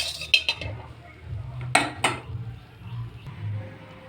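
A utensil clinks and scrapes against a cooking pan while oil heats for tempering greens, with a few sharp metallic knocks and soft scraping strokes over a low background hum, close by.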